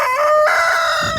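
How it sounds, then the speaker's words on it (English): A lavender Orpington and blue red-laced Wyandotte cross rooster crows close by, one loud sustained call with strong harmonic tones rising and holding before trailing off. "The one that's crowing right now. Yeah, he's a lavender Orpington, blue red-laced Wyandotte cross."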